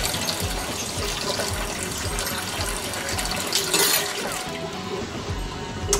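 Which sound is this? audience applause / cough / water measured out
water measured out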